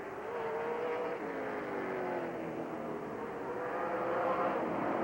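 Late model race cars roar around Rockford Speedway, several engines droning and overlapping at high revs as the pack slides out of a corner, loud and sustained with no pause.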